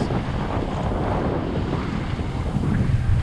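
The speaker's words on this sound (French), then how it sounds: "vent et mer de face, comme d'habitude." Steady wind noise and rolling sea waves buffet a sailboat heading into a head wind and head sea off the Catalan coast, with the mainsail up and the engine at 1500 rpm; the broad rushing roar stays close and continuous throughout.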